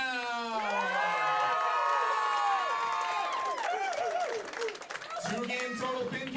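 Crowd cheering for top-seeded Watertown at the Wisconsin high school bowling state team championships at Dale's Weston Lanes: loud, sustained shouting and whooping from many young voices with clapping underneath, swelling and continuing throughout.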